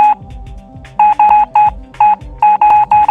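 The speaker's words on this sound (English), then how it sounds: "Wall sonar beep." A video game wall sonar gives a series of short electronic beeps, two-tone and sharply pulsed, repeating in quick bursts with brief gaps, loud and clear over a low synthetic background.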